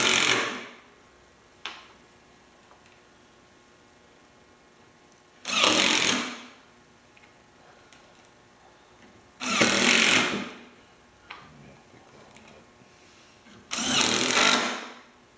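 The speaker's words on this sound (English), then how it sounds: "I then place my faceplate over the center and then use my screws to screw it down." Three loud whirring bursts of a power screwdriver, each about a second long with quiet gaps between, driving screws through a lathe faceplate into a segmented wooden bowl blank.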